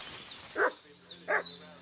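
A dog in the video game Kingdom Come: Deliverance 2 gives two loud, close barks about 0.7 seconds apart, with faint birdsong chirping in the background.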